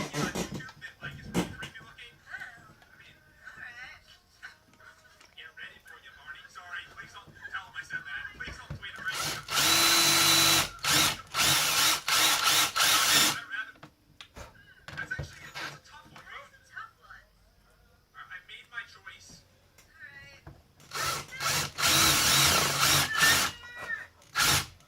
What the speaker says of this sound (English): I'm going to drill these two in front of you